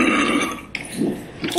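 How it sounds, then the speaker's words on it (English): A burp-like or fart-like bodily noise sounds in a few low, rumbling bursts, fairly close and loud, alone without talk. "Why did it sound like somebody just farted or belched?"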